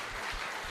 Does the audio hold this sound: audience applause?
yes